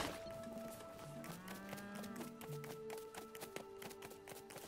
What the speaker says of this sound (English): Is that a cow? It looks like a bull.